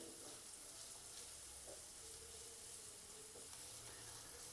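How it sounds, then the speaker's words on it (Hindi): Chopped onion with roasted garlic frying lightly in a pan to soften, giving a faint, steady sizzle with soft hiss and occasional small stirring sounds, no voices. "प्याज को भी हम 2 मिनट के लिए हल्का सा फ्राई कर लेंगे ताकि प्याज थोड़ा सा नरम हो जाए।"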